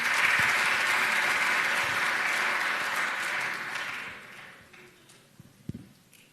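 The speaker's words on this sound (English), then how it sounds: "Let's clap for Ahmad and Fatima." Audience clapping for two student presenters at a university ideas event, a dense burst of applause that holds for several seconds, then thins and tails off into a few scattered claps.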